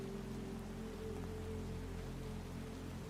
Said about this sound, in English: quietly telling you that it might rain like this forever